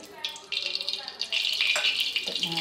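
Cooking oil sizzles in a hot tava, a bright hissing that starts thin, jumps louder in steps, and settles into a steady close crackle with faint clinks under it.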